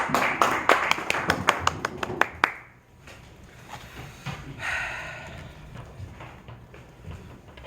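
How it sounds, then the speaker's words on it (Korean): An audience at a church pastors' lecture event claps to welcome the speaker, a brisk burst of many hands for about two and a half seconds that quickly dies away into room murmur. "우리 원장님 나오실 때 박수로 환영하겠습니다"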